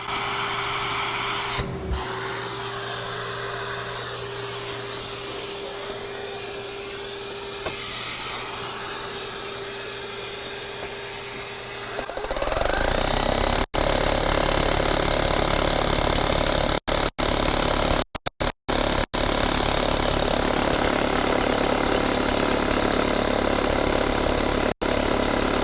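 A Dewalt SDS max hammer drill with a hollow core bit and attached vacuum bores into a concrete footing; a vacuum hums alone at first, then loud, dense hammering takes over and continues steadily to the end.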